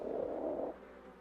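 A honeybee performing a waggle dance gives off a short, droning buzz lasting under a second, then stops, leaving a faint background.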